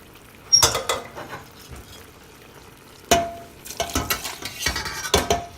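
Kare-kare being stirred in a pan while it is deglazed, heard as irregular scraping and clinking strokes of a utensil against the pan, close and moderately loud, with pauses between bursts and no talking.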